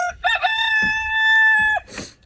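A rooster crows one long, loud, sustained call close by at a homestead chicken coop, with a few short clucks before it and a brief rustle after.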